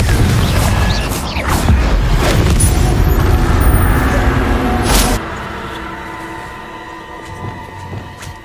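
Confringo blasting spell exploding in Hogwarts Legacy, a loud booming crash with rumbling debris and mechanical clatter, then a sharp cutoff into a quieter, fading ambient tail.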